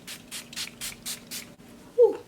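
A mini travel-size Too Faced Hangover 3-in-1 setting spray bottle gives six quick, close, evenly spaced hissing bursts, followed by a brief breathy exhale.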